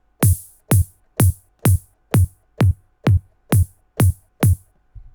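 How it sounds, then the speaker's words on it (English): Ten evenly spaced hardstyle kick drums, each a punchy booming thump with a bright, noisy hi-hat hiss layered on its attack, repeating in a steady loud pulse with no voices. "there's usually a hi-hat and a kick drum playing at the same time"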